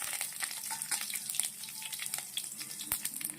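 White sesame seeds, cumin, mustard seeds and curry leaves crackle and pop in hot oil for a tempering, a bright continuous sizzle with scattered sharp spits, close and alone.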